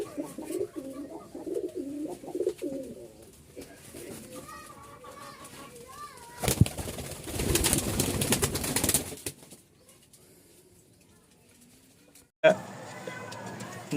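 A pair of tumbler pigeons with feathered feet coos in soft, repeated throaty pulses close by while someone talks over them, followed by a burst of rustling wing flaps and handling noise.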